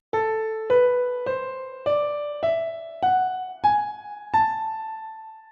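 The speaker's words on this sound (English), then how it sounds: "that A melodic ascending minor scale once again sounds like this" Seven plucked or struck tones climbing one by one through an ascending A melodic minor scale in a steady, even rhythm, each note ringing briefly before the next, played alone with no talking.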